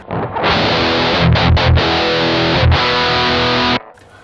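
An electric guitar plays through a Boss MT-2W Metal Zone Waza Craft distortion pedal with the mids at a middle setting, giving a loud, saturated chord that is briefly cut and restruck several times before stopping abruptly.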